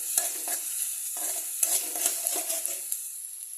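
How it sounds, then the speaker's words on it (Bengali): Chopped onion lightly frying in a pan for a mixed vegetable chorchori, a steady soft sizzle with intermittent stirring scrapes and small utensil taps, close and clear with no talking. "পেঁয়াজ কুচিটা বেশিক্ষণ ভাজবো না অল্প একটু হালকা হালকা ফ্রাই করব"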